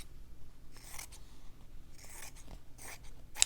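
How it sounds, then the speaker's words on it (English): Scissors snip through fabric being trimmed for a faux fabric postcard, a few soft, quiet cutting strokes spread across the moment, close and with no talking. "So I'm going to cut my fabric down"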